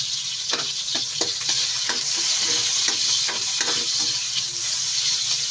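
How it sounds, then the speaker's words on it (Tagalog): Onions and ginger sautéing in a hot pan for chicken curry: steady loud sizzling, broken by a series of sharp scraping stirs from a spatula at irregular intervals, with no talking. "Magigisa na tayo ng sibuyas"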